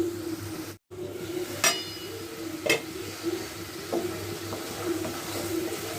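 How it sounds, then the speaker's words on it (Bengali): Shrimp stir-fry sizzles in a pan for a Bengali vegetable dish, with a steady frying hiss beneath a few sharp clinks and scrapes of a utensil against the pan. "চিংড়ি মাছটা দিয়ে আবার একটু খুব ভালো করে কষিয়ে নেব আমি"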